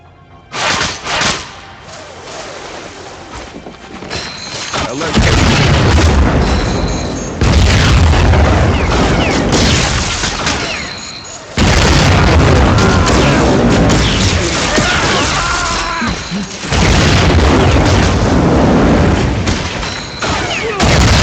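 Grenade explosions from the Marvel Heroes game, repeated loud booms and blasts in heavy bursts, with brief gaps, some crackling gunfire-like bangs amid the din.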